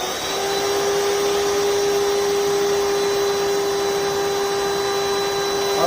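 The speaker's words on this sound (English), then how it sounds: "So at this time I'm going to start the motor." The blower motor on an HTP forced draft burner runs continuously, producing a loud, steady whirring rush with a sustained tonal whine and no breaks.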